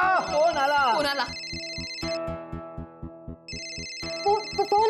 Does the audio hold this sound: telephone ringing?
yes